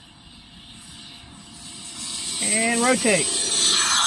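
An RC F-16 model jet with an electric ducted fan screams at full throttle, a loud close hissing whine that builds in intensity, while someone briefly speaks over it.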